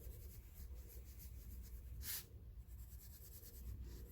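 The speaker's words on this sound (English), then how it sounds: "for small areas, you can get really good precision shading" Pencil shading on paper with the side of the hand resting on the sheet, a soft continuous graphite rubbing and scratching in short strokes, close and quiet, with one brighter scrape midway.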